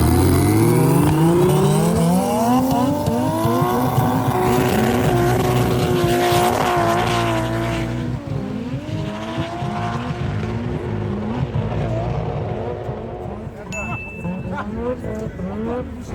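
A Golf 2 and an Audi A4 drag racing up a snowy ski slope, engines revving hard with rising pitch and tire spin, loud and close at first before the cars pull away and fade.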